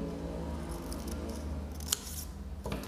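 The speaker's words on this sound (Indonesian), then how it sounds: "Setelah kita lipat jadi setengah lingkaran, jadi dua, kita gunting lagi." Scissors snip through a folded black paper circle during a kindergarten craft activity, a steady run of close, crisp cuts with one sharper snap near the end and no talking.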